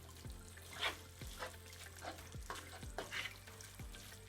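Ground beef mince frying and being stirred in an uncovered pot for tacos, with a steady low sizzle and regular scraping strokes of a spoon against the pot roughly every half second, close and moderately quiet.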